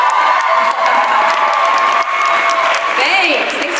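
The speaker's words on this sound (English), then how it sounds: "Thanks for starting that clap." A convention panel audience at Comicpalooza bursts into loud, sustained applause and cheering, with whoops and shouted voices riding over dense, close clapping throughout.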